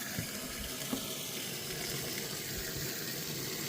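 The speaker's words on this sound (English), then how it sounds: "let's continue filling this thing with water, and then I get my water from the spigot right there, and I just run a hose over here." Water running from an outdoor spigot through a hose into a container for van laundry, a steady continuous gush at close range with no talking.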